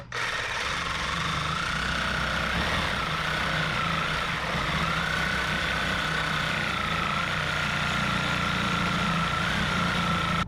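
A power grinder works steadily on a Yoshimura RS4 exhaust from a CRF450L dirt bike, a continuous loud whining grind with a wavering high tone that holds for about ten seconds with no pauses.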